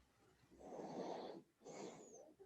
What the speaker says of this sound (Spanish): Ya están roncando.